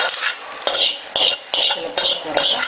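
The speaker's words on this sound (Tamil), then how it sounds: "I have fried all the ingredients: onion, tomato, red chilli, pepper and jeera, and putting into the cooked green dal." Onion, tomato, red chilli, pepper and jeera for green dal fry in a hot pan with a steady sizzle, broken by repeated sharp scrapes and clinks of a metal spoon stirring against the vessel, close and loud with no talking.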